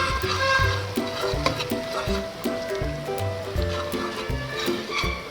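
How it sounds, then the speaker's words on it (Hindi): Ginger and garlic frying with onions in a pan while making beef kofta curry, with steady sizzling and repeated stirring scrapes throughout at close range. "अदरक लहसुन डाल के इसको तकरीबन 1 मिनट फ्राई करना है।"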